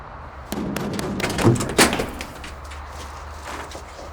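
Someone pounds on a door with a few heavy, irregular thuds nearby, the loudest hits coming close together.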